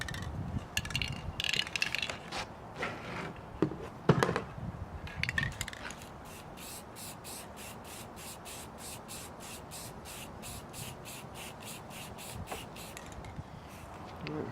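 Red spray paint goes onto a wooden Porsche logo cut with a jigsaw. Quiet hissing and clicking bursts come first, then a long run of steady, evenly spaced rattling pulses at low volume.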